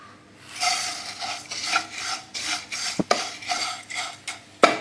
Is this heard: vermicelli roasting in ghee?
yes